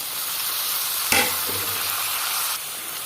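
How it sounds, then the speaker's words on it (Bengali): Five medium tomatoes land on dry ground spices in a hot pan for a chicken dish, with a sharp burst of sizzling that settles into steady, close frying and no talk. "আমি টমেটোটা দিয়ে দিচ্ছি"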